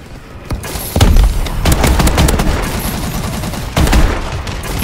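Heavy automatic gunfire from a friendly gunship in Call of Duty: Advanced Warfare, a dense sustained roar of rapid shots with booming surges near the start and again toward the end.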